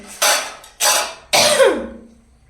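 Three harsh coughs at close range in a kitchen, evenly spaced, the last one longer and trailing off into a throaty rasp.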